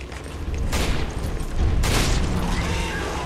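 Heavy gunfire in Resident Evil 5, two loud booming shots or bursts roughly a second apart, each followed by a dense rumbling tail.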